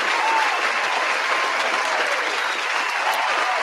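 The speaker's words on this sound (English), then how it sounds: "Round of applause, man." Sustained clapping from a crowd, dense and steady throughout, with no one speaking over it.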